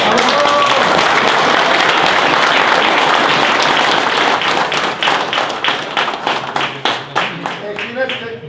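Audience applause at an international surfcasting championship in Poland, a dense sustained crowd clapping that thins into scattered individual claps toward the end, with faint voices in the background.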